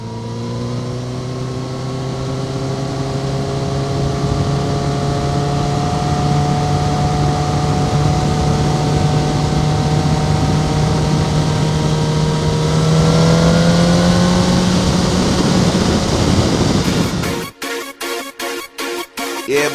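A 2009 Honda Repsol CBR1000RR engine drones loudly and steadily while riding, its pitch climbing gradually as it builds speed, then cutting to rapid choppy pulses near the end, with wind noise throughout.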